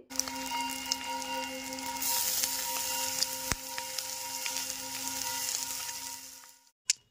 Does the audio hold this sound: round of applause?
no